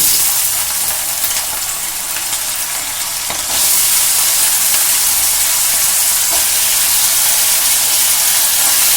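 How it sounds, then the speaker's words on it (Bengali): Potatoes hit hot oil already crackling with tempering spices for a Bengali potato curry, a steady loud sizzle that swells sharply and keeps hissing and spitting up close. "এবার কিন্তু আমি আলুগুলো দিয়ে দিচ্ছি তেলের মধ্যে।"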